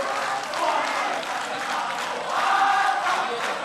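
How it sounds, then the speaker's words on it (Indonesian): Dense, sustained applause and crowd noise from a live audience at a televised presidential debate, a broad steady wash of clapping that swells toward the end. "kita beri tepuk tangan untuk dua pasang calon kita"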